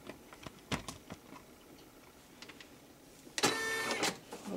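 An embroidery machine starts stitching on a hooped shirt with a sudden, steady mechanical whir and rapid needle chatter near the end, after a few faint clicks and taps, with no talking.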